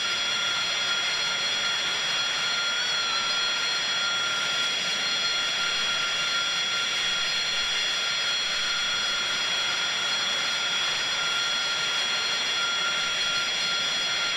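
Steady, loud roar of an AV-8B Harrier jet engine in the X-Plane 11 flight simulator at Naval Air Station Patuxent River, a constant broadband rush with a high whine layered on top and no breaks throughout.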